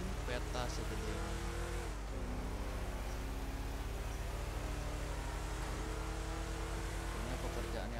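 Car driving in a roleplay video game, a steady engine drone with a shift in pitch near the two-second mark, continuous and moderately loud, with someone talking over it.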